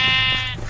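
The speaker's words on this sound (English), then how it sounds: "We have to get the sheep from the blue." A single sheep bleat in Minecraft on the Mineplex arcade server, a short, loud, buzzy tone that fades out quickly.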